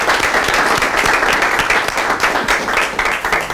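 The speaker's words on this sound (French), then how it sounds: "sous vos applaudissements, mademoiselle Sephora" A loud, close audience applauds in welcome as Sephora is called up at a Créteil municipal election event, with sustained, even clapping and sharp individual claps standing out throughout.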